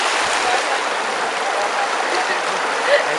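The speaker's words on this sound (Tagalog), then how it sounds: "Tila musika sa aming mga kaina ang lagaslas ng tubig na nanggagaling pa sa tuktok" Mountain stream in Madlum, San Miguel, Bulacan, clear water running over a rocky bed down from the peak, a steady broadband rush with no breaks, close and even throughout.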